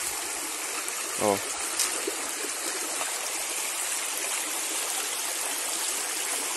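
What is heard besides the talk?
river water flowing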